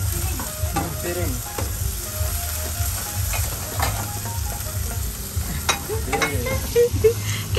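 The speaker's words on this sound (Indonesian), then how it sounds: "Sekarang silakan numis udang." Shrimp sizzling and frying in hot oil as it is stir-fried in a pan for seafood spring rolls, a steady close crackle with scraping stirs throughout, no talking.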